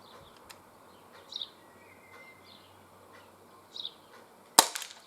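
A Springfield Armory XDe BB pistol fires a single sharp, snappy crack near the end, standing out against a quiet outdoor backdrop with faint insect or bird chirps.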